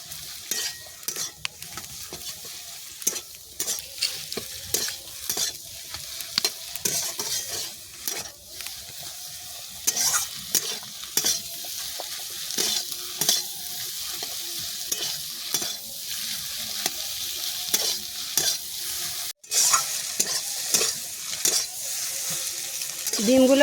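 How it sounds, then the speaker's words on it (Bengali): Beaten eggs are stirred and fried into crumbly scrambled pieces for an egg and potato jhuri, with a soft steady sizzle punctuated by frequent spatula scrapes and clinks against the pan, moderately near. "এবার ভালো করে ঘেঁটে ভেজে ঝুরি ঝুরি করে নিতে হবে।"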